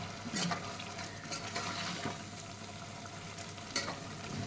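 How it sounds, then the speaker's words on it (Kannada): Ground green masala goes into a pan of vegetable pulao, producing a soft continuous sizzle and frying crackle with light stirring scrapes, fairly quiet and close. "ಇವಾಗ ಗ್ರೀನ್ ಮಸಾಲೆ ರುಬ್ಬಿದ್ದೀವಲ್ಲ ಅದನ್ನು ಹಾಕ್ಕೊತಾ ಇದ್ದೀನಿ."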